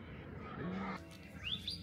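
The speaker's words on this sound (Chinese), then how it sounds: "今天早上7点钟就听着鸟叫" Birds call in the early morning beside Dubbo zoo in Australia, with a few chirps and squawks rising briefly over a low background murmur, moderately near and heard without voices.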